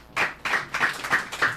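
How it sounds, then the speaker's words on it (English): Audience clapping after a speech at an oratory contest, broad bursts of applause in a steady wave, mid-distance and fairly loud, with no voices over it. "A round of applause for Oriofe Job."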